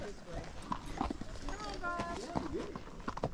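Hooves of a Missouri Fox Trotter horse clip-clop on a trail in Empire Mine State Park, in a steady walking rhythm close by, while people talk over them.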